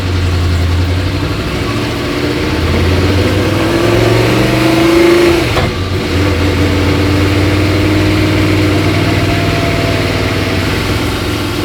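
An INDYCAR-powered Martini Mustang Fastback engine revs loudly from inside the cabin, a sustained roar that climbs in pitch, dips briefly, then holds high and steady, heard without talk.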